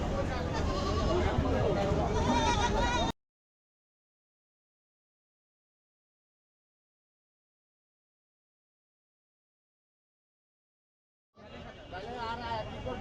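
A mother goat with three kids bleats at a rural village livestock market in Bangladesh. Loud, close calls mix with crowd babble and nearby talk, then cut to silence before the market noise returns.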